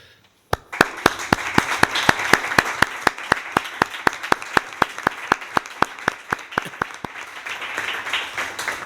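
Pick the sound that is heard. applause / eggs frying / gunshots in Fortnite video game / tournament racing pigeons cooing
applause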